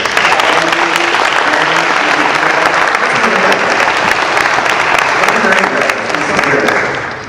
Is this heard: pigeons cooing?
no